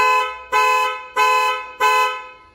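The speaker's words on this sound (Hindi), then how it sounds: "अगर आपको गाड़ी को दूर से स्पॉट करना है गाड़ी कहाँ पर है विद साउंड" A Tata Nexon's horn sounds from the key fob car-locator function, four loud, close, evenly spaced honks, each about half a second long, with no speech over them.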